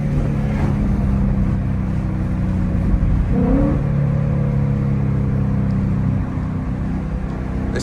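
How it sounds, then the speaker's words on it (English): A pickup truck engine revs hard on a back road, a loud, continuous roaring drone that climbs in pitch briefly midway and holds steady throughout, with no voices. "Look at that truck behind me going crazy."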